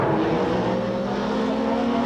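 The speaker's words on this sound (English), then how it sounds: "you can hear the tyre problem" A 1989 British Touring Car Championship touring car with a tyre problem, heard from inside the car: a loud, steady engine drone with strong harmonics, running continuously without letup.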